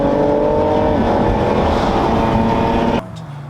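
BMW F80 M3 engine running steadily at a loud, constant drone with harmonic tones, then cutting off abruptly near the end.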